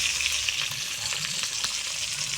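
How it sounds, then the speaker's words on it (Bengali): Sliced onions with black cumin (kalo jeere) frying in a pan of hot oil, a steady dense sizzle with faint crackles throughout, no voices. "পেঁয়াজ আর এগুলো ভালো করে ভেজে নেবো।"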